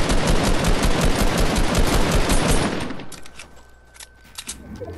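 Rapid automatic gunfire rattles loud and dense in a video game firefight, then breaks off into a few scattered shots and quieter background sounds.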